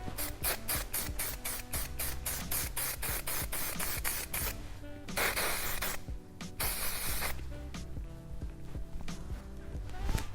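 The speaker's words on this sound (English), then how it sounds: "One more spray." Repeated short bursts of hairspray hissing in quick succession while styling curled medium-length hair, followed by longer continuous sprays; close and fairly loud with no talking.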